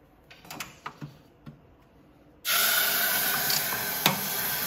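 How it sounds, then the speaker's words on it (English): Water poured into a hot popcorn maker erupts into loud, sustained steam hissing after a few small clicks and taps, the spray holding at full strength close by until the end. "I'm gonna pour in a little bit of water and then the whole unit's gonna get steam"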